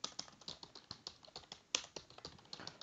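Steady typing on a computer keyboard, close and fairly quiet, with quick irregular keystrokes and one sharper clack near the middle, no voices.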